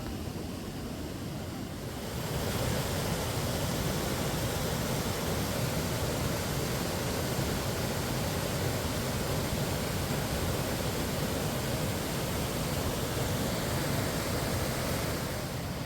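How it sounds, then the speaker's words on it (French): Steady broadband rushing of a mountain stream on Mount Olympus fills the whole stretch, swelling louder after the first couple of seconds and holding an even, continuous wash. "J'adore la bruit de l'eau."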